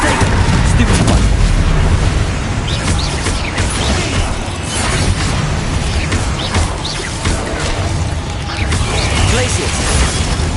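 Spell blasts and explosions from Hogwarts Legacy pile into a loud, dense roar of booms, crashes and mechanical rumbling, with voices mixed in.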